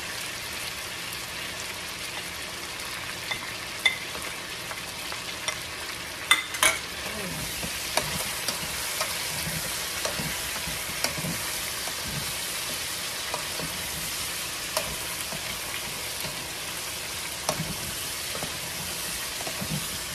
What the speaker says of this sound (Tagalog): Ilalagay ko na ngayon yung onion saka yung garlic.